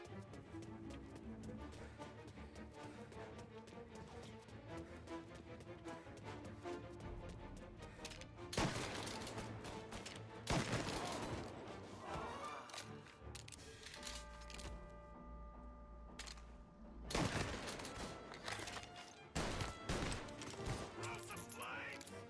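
Gunfire in Mafia II, several sharp bursts and shots from about eight seconds on, loud over a busy game soundtrack, with someone talking at times.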